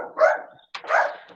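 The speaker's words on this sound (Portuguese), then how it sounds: "ela botou o cachorro aqui para dentro" Indoors, during a geography lesson, a dog gives two barks a moment apart, moderately loud and fairly close, with no talking over them.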